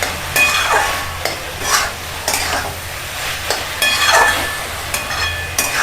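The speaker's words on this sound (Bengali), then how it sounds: "এবার নাড়তে থাকি" Radish ghonto being stirred in a pan, a vegetarian Bengali dish nearly dried out, with repeated scraping strokes of a spoon every second or so over a low steady sizzle, close and fairly loud with no talking.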